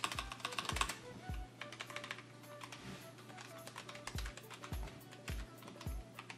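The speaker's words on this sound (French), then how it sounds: "je vais pouvoir taper sur le clavier et vous allez entendre le bruit et vous allez vous dire qu'il est très silencieux" Typing on a Logitech G815 Lightspeed mechanical gaming keyboard with brown switches: rapid, soft, close key clicks in quick bursts with short pauses and a few heavier thumps, quiet and alone.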